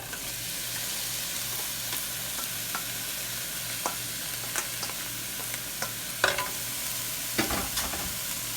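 Homemade beef vegetable soup with ground beef being stirred in a pot, a steady close sizzle with a low hum underneath and scattered scrapes and clinks of the spoon, growing busier near the end.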